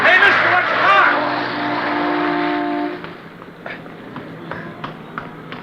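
A car speeds past on a street in a radio drama sound effect, its engine roaring loud and close for about three seconds before cutting away. Scattered clicks and street noise follow.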